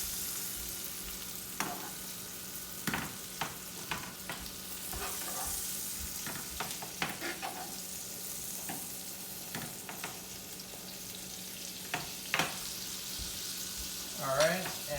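Steak frying in a pan, a steady sizzle with scattered pops, clicks and spatters over about fifteen seconds, close and fairly quiet, with no talking.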